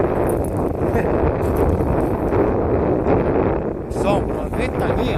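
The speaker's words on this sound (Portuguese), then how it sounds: "Um vento que não dá pra ficar nem de pé." Strong wind at sea buffeting a microphone on a fishing boat, a loud steady roar with gusty rumble, with water splashing and a voice speaking over it partway through.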